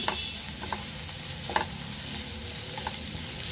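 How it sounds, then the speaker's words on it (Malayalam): Small onions sautéing in a pan for rajma curry, giving off a steady, fairly loud sizzle broken by a few light scrapes of the stirring utensil. "നമുക്കിതൊന്ന് നന്നായിട്ട് വാട്ടിയെടുക്കണം ഇതിൻ്റെ കളർ നന്നായിട്ടൊന്ന് മാറി വരണം"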